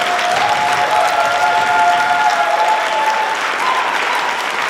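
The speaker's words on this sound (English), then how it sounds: "I'd like to give them another round of applause because they should be very proud of all they've done" A conference audience applauds a university team at an awards and closing ceremony, dense sustained clapping that fills the room steadily throughout.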